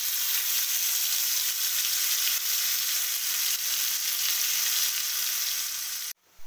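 Spice paste frying in white oil and ghee, an even crackling sizzle held close and steady for several seconds before cutting off abruptly.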